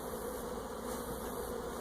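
Honeybees buzz steadily and close by as frames are shifted from a nuc into a hive box, a dense continuous hum with no voices.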